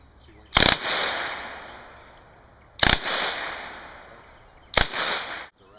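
A full-auto firearm fires three short bursts, each a sharp crack followed by a decaying echo, spaced a couple of seconds apart and heard close up.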